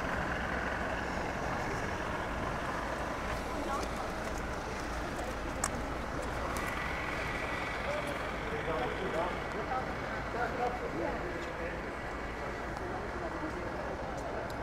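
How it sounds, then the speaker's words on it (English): Busy street traffic rolls past in Waterford, Ireland: a steady low wash of trucks and buses with a faint hiss of brakes, birds calling, and indistinct voices nearby. "A lot of traffic."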